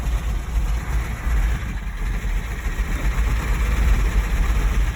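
Engine of a 1971 Ford F600 truck with a hole in the block running roughly and unable to hold an idle, a steady, close, low rumbling drone with an uneven, lumpy pulse throughout and no talk.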